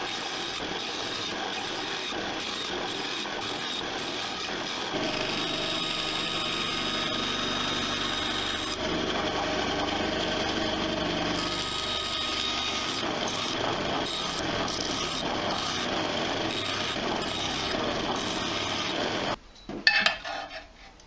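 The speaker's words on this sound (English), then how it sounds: "used a disc sander to get them down to final dimension" A disc sander grinds roughly bandsawn wooden coasters down to final size with a loud, continuous abrasive whir that shifts slightly as pieces are pressed in. It stops near the end with a brief clatter.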